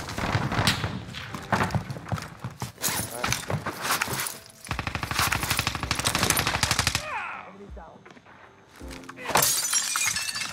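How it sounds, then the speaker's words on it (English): Hostile automatic gunfire in Call of Duty Warzone on Rebirth Island, loud dense bursts of rapid shots with sharp breaking-glass crashes, pausing briefly before another burst near the end. "Receiving hostile fire."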